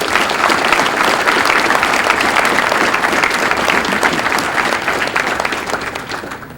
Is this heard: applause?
yes